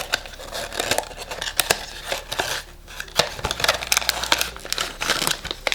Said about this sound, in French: je déchire à chaque fois les boîtes